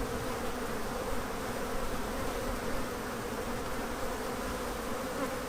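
Honey bees buzz in a dense, continuous drone during an open hive inspection, close and loud with no talking.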